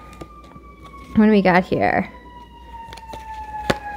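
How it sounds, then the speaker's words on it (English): An emergency siren wails briefly in the background while a person speaks nearby. "Sirens."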